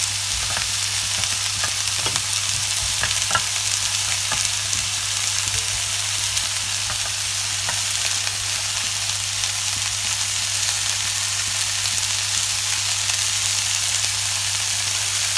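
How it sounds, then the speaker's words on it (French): Carrots, garlic cloves and potatoes fry in a pan for a lamb tagine, giving a loud, steady sizzle through the whole stretch, with a few faint clicks of stirring and no voices. "Je vais également ajouter mes pommes de terre."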